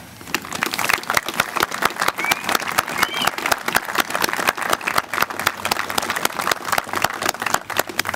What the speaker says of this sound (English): Can we have a big round of applause for the band?